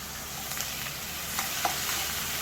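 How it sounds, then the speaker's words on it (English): Tomatoes sauté in a pan over browned onions and ginger garlic paste for a paneer tikka masala gravy, a steady close sizzle with a few soft stirring scrapes and clinks, no talking. "So now I'm adding the tomatoes."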